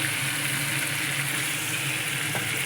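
Prawns frying in a pan for a malai curry, a steady, even sizzle throughout with no talking.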